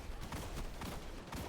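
Hand cannon gunfire in a Destiny-style first-person shooter, heard as a dense, steady barrage of booming game shots and impacts across the whole moment, with no pauses in between.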